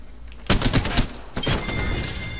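Gunfire in the battle royale game Apex Legends, two loud, close bursts of rapid shots about a second apart, each ringing out briefly afterward.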